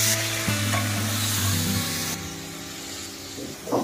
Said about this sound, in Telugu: ఆనియన్స్ పేస్ట్ వేసుకొని ఫ్రై చేసుకుందాం ఫ్రెండ్స్.